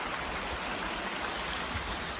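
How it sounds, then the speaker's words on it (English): A creek flowing beside the Appalachian Trail near Highway 19E, a steady rushing babble of water heard up close and alone, faint in level. "This is a pretty creek."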